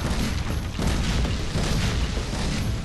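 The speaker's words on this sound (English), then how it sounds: "they're bringing out their master cannon or something." Heavy cannon fire from a pirate ship in Skylanders: Spyro's Adventure, a dense, loud booming rumble that runs for about three seconds with one short dip partway through.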